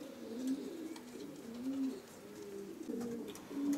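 Pigeons of mixed colours, red, blue and speckled, coo softly inside a breeding loft, low, rolling calls repeating faintly and slightly distant with no talk.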